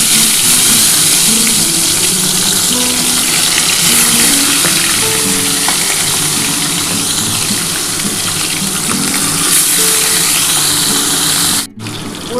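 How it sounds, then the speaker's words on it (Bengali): Tilapia fish frying in hot oil in a pan: a loud, continuous close sizzle and crackle with no talking, cutting off briefly near the end. "বন্ধুরা দেখো, তেলটা আমার গরম হয়ে গেছে। এবার আমি মাছগুলো দিয়ে দিচ্ছি।"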